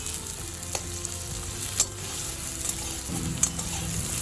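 Small-cut potatoes fry in mustard oil in a kadai, giving a steady, close sizzle that runs throughout with faint crackles and no talking.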